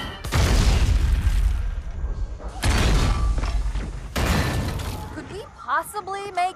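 Alien weapons fire in Halo 2 during combat: three heavy booming blasts with crackling tails in quick succession, followed by a voice talking over the game.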